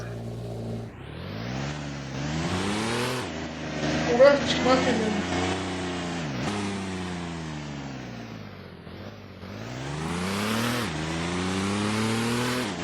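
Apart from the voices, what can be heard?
car engine exhaust revving in Roblox Driving Empire video game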